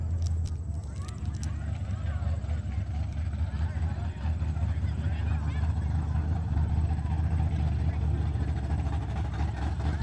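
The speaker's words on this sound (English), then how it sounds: "V6 full bolt on Mustang versus a Charger RT stock." Engines of a V6 Mustang with full bolt-ons and a stock Charger RT at a street race in Mexico, a steady, heavy low rumble throughout with voices murmuring over it.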